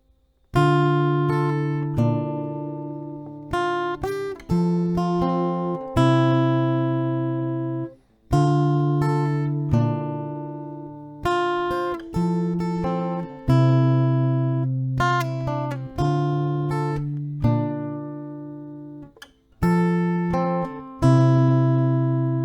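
Acoustic guitar played at an unhurried pace, a steady run of strummed and picked chords with brief pauses between phrases, close and clear with no voices.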